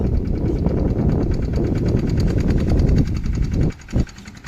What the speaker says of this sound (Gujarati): લો ટ્રેક્ટર ફસ ગયા